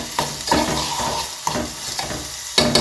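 Onion frying in a hot pan for a Maharashtrian green-chilli potato sabzi, a steady sizzle broken by several sharp scraping stirs of a spatula, close and fairly loud, with no voices.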